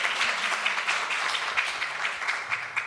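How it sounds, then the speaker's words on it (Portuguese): A brief, fairly faint round of applause from an audience at a psychology talk on somatization, with scattered claps forming a steady patter throughout and no voices over it. "calha bem uma salva de palmas"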